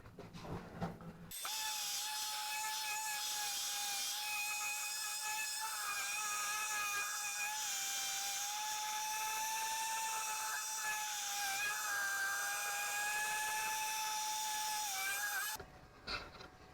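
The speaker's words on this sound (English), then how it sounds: "sanding a small piece of the floor just so that I can get a rough idea" A sander fitted with a 60 grit pad grinds steadily across a boat's floor, a loud, continuous high whine with a slight wavering pitch that runs without a break for about fourteen seconds, then cuts off.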